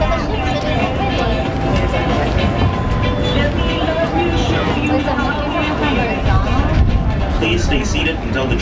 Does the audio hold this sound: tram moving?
yes